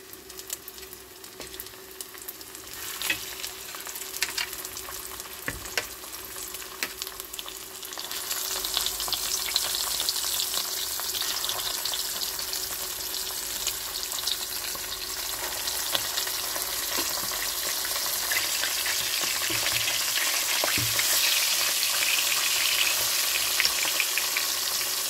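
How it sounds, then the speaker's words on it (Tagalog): Red mullet fish frying in hot oil, a steady close crackling sizzle that grows louder and denser partway through and continues without talking. "Mainit na ang ating mantika. At ilagay na natin yung ating isda."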